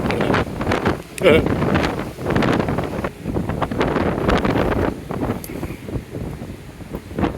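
Strong wind buffets a microphone on the deck of the Gozo ferry in Malta at midday, roaring and gusting continuously, with faint talk and engine noise beneath.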